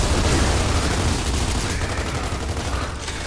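Enemy gunfire in Gears of War 2, a dense, steady barrage of shots that holds at a constant loud level for the whole stretch, with no pause and no talk over it.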